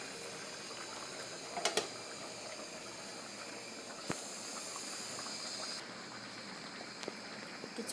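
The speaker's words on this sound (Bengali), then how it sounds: "এদিকে আমার মিষ্টি কুমড়াটা হচ্ছে।" A pot of sweet pumpkin simmers on the stove with a steady soft hiss and bubbling, broken by a few faint clinks, all fairly quiet with no talk.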